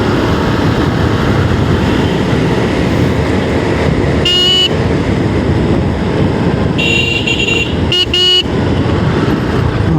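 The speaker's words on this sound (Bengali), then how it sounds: "বাইকের হর্নটা ডিস্টার্ব দিচ্ছে, মানে অনেক বিরক্ত করতেছে।" Horns honk in busy road traffic on a Dhaka flyover leading to the Dhaka–Mymensingh highway: three short, shrill blasts rise over a constant loud rush of wind and engine noise from a moving motorbike.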